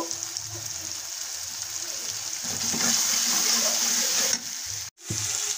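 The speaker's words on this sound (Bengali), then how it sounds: "দিয়ে দেবো অল্প পরিমাণ জল" A little water poured into a pan of frying spices for an aloo sem sabzi, the sizzle swelling into a louder hissing rush partway through, then a brief cutoff and a return to steady sizzling.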